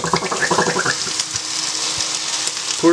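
Sauce sputters and squirts from a squeeze bottle into a pan in a short, wet, bubbling burst that fades into a faint hiss.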